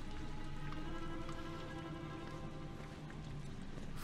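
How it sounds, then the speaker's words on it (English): Steady rain falls throughout in the horror game Outlast, a dense, even patter at moderate level with faint low tonal hum beneath and no talking. "I'm just happy to get out of the rain."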